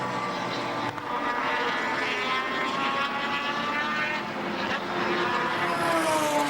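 Cars race down the straight at Surfers Paradise Raceway in a 1983 touring car round, a heavier V8 and a 950 kg Mazda, their engines giving a loud, sustained roar with rising and falling pitch that continues throughout.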